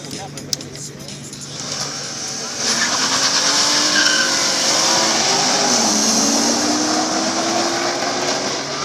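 A Porsche and a BMW drag racing on an airfield strip, heard as a steady, loud engine roar with rising, whining tones from the accelerating cars, and a commentator talking over it.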